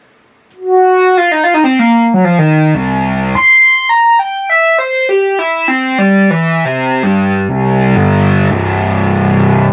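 A Memorymoog synthesizer in mono mode plays loud, buzzy single-note lines, stepping through rapid descending and rising runs with bright, harmonically rich tones and no talking.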